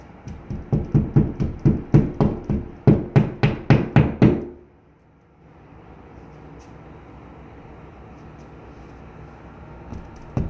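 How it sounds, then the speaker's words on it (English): A small hammer taps wall anchors into a wall for mirror brackets: about a dozen sharp, evenly spaced knocks in quick succession, close and loud, then quiet room tone. "you take a small hammer and tap these in the wall"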